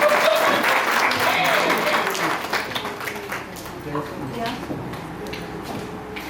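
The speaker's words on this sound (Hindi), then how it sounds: "मेरी लक्ष्मी के लिए कम से कम ताली तो बजा दीजिए" An audience claps together for a speaker at a women's honour event, a dense burst of applause that starts loud and gradually thins and fades over several seconds, with voices and crowd murmur underneath.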